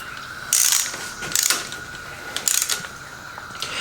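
Ratchet clicking in short bursts while torquing the cylinder head bolts on a 2013 Grasshopper diesel mower, several separate runs of rapid pawl clicks with brief pauses between, close and clear.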